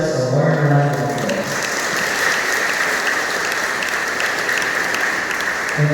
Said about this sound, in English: Let us once again give ourselves a warm round of applause.